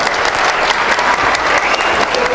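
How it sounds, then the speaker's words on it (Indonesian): Audience in a lecture hall applauding, a dense, steady burst of many hands clapping close by that carries on through the whole moment. "Ya, berikan aplaus."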